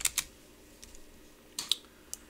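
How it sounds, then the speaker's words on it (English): Quiet clicks of a computer keyboard on a Windows 10 PC come in a few short bursts of keystrokes, close and isolated, with no talking. "type in ipconfig."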